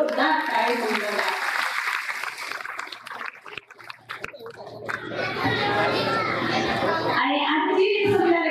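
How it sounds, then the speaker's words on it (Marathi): A crowd at a Shiv Mahapuran katha bursts into dense, sustained applause for a Samudra Manthan tableau, rising in the middle of the stretch over background music and murmur before fading. "एकदा या समुद्र मंथनासाठी जोरदार टाळी वाजवा"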